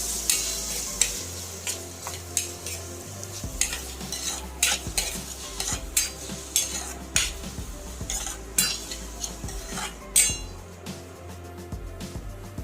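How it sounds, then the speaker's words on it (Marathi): Finely chopped onion is being sautéed for pav bhaji, with a continuous frying sizzle and repeated rhythmic stirring. A spatula scrapes and clinks against the pan close up, and no one speaks. "बारीक कापलेला कांदा घालून घ्या आणि छान लालसर होईपर्यंत परतून घ्या"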